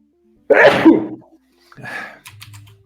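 One sharp, loud sneeze close by, followed a moment later by a brief voice.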